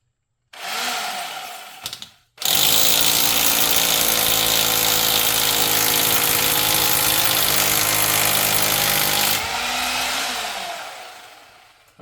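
A hole saw cuts through styrofoam, a loud, steady, close whine with a short burst first, then a long continuous run before it winds down at the end.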